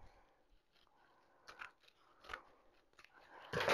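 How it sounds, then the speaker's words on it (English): Scissors snip ribbon being trimmed for a bumble bee bundle bow on a wreath attachment, giving a few faint, quiet cuts spaced apart that build to a louder crunchy snip at the end. "Now you can trim this up if you'd like"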